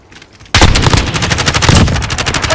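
Loud, sustained automatic gunfire in Call of Duty: Modern Warfare erupts after a brief quiet lead-in, a dense rapid stream of shots with heavy booming low end continuing to the end.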